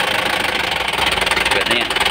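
An Isuzu 4JB1TC diesel engine with hard starting and stalling trouble is revved, giving a steady loud mechanical clatter and hum for about two seconds, up close and continuous.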